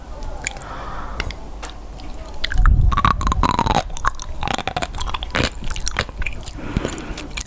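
Close-up mouth sounds of biting into and chewing a salty seafood snack with sauce, moist squishy chews and a few crunchy bites in an irregular rhythm, no talking.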